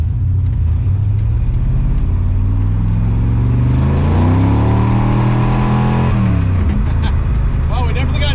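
Car with a GM 7.5-inch mini spool rear end and a 400ci small-block Chevy accelerating hard, the engine pitch sweeping up loudly then dropping on a shift, with a voice talking near the end.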